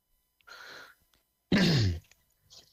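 A short breathy burst followed by a louder, rasping throat clearing with a falling pitch, heard up close with no talking.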